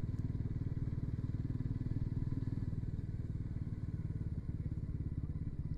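Bajaj Pulsar NS400Z motorcycle engine running steadily at low speed around fourth to fifth gear, a close, loud, even thrumming pulse with no clear break for the shift.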